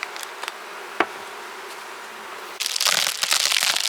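Honeybees from a colony crowd a feeder stocked with pollen supplement, their soft buzzing faint at first, then swelling into a loud, dense hum from close by in the final second or so.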